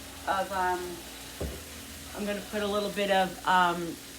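Garlic and onion fry in a pan for Mexican rice, giving a steady low sizzle beneath a person talking in short bursts nearby.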